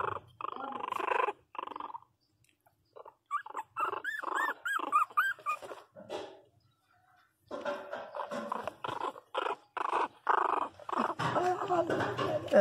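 A small pinscher puppy growls in close, repeated bursts of rough snarling, with pauses between them and speech in parts of the clip.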